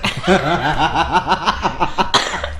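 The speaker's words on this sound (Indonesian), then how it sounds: "Ya Allah, batuk." A voice breaks into a run of rapid, rhythmic chuckling or coughing bursts, several in a row, loud and close, ending with a sharper burst.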